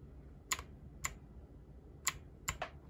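Four sparse, crisp clacks come from a Rampage Bygame K1 mechanical keyboard with blue switches, each keystroke a clicky snap with a faint ringing edge, close and quiet against a soft background hum.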